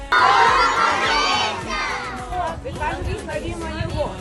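A crowd of children at a preschool Christmas celebration shouting together loudly, a burst of voices that eases into excited chatter and further calls.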